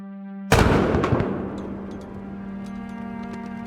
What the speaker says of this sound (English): that first cannon fire on that first night was a bit of a surprise for me